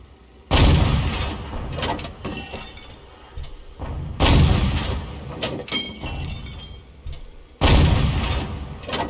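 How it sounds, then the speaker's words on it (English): A tank cannon in a WWII tank video game firing premium ammo, three loud booming shots spaced several seconds apart, each followed by crackling, clinking debris and rumble. "he's still blasting away with premium ammo"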